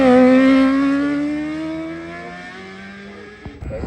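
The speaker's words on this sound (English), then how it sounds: "Hard on the brakes and that 600cc Honda engine really screaming as he goes through the top of the" A 600cc Honda-engined hill climb car at a hill climb meeting, screaming at high revs in a loud, sustained wail whose pitch slowly falls as it passes and fades, then a brief thump near the end.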